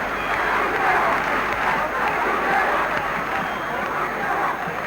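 Football-style crowd at a cricket ground chanting and singing in the stands, a continuous swelling roar of many voices with rhythmic rises and falls, fairly loud and unbroken.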